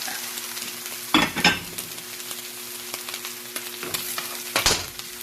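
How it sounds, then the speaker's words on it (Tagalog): Fish being sautéed in hot olive oil with garlic, onion and ginger for ginataang barilyete, a steady close sizzle punctuated by a few louder bursts as the pan is stirred, with no talking. "sibuyas, luya sa olive oil. Ilagay na natin ang isda."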